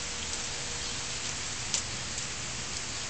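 Steady rain falls during street flooding in Chicago, a continuous even hiss of drops spattering on surfaces close by at moderate level, with a faint extra patter near the middle and no talking.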